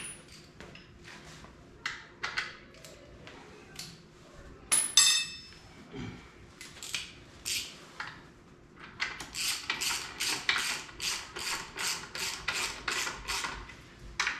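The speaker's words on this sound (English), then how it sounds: "let me go ahead and get this bolt finished tightening up" A bolt on a car transmission being tightened during a WRX-engined VW Beetle swap, with close metallic clinks, ratchet-like clicks and rubbing scrapes in irregular bursts that grow busier toward the end.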